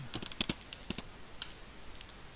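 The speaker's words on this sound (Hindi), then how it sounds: "आप अपने कीबोर्ड से डाउन एरो दबाएंगे" Faint, close clicks of keys pressed on a computer keyboard, a few quick taps in an otherwise quiet room.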